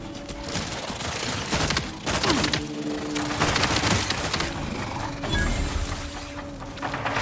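Gunfire in The Outer Worlds 2: dense, continuous crackling volleys and sharp impacts with clattering mechanical sounds, loud and close throughout without pause.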